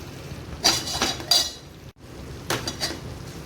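A metal utensil scrapes and clinks against a pan while wild vegetable curry of ulshi flower buds is stirred, with several short bursts of clatter separated by brief pauses, close and moderately loud.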